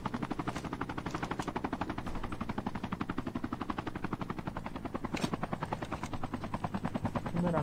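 Helicopter rotor chopping steadily and loudly throughout a Call of Duty Mobile match, its rapid thumping rhythm continuous from start to finish with a brief sharp burst partway through.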